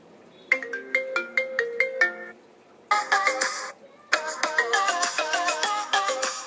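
An iPhone ringtone plays on its own as a bright, bell-like melodic jingle of quick plucked notes, pausing briefly, then repeating in fuller, denser phrases.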